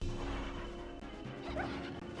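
In Castlevania 64, melee blows smack into attacking dogs: thwacks and crashes with yelps, buried in a dense, steady wash of game sound.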